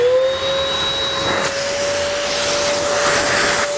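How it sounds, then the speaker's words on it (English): HV5500 paint spray gun spraying clean water into a bucket, a loud continuous close hiss with a steady high whine holding for several seconds. "I'm going to spray that clean water through the gun"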